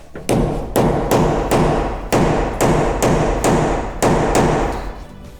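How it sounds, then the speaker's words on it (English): Ten heavy metallic hammer blows strike a socket onto a bolt on a 1972 Chevrolet Nova in a steady rhythm, each sharp and close, with brief ringing between strikes. "I'm gonna make it fit with a hammer"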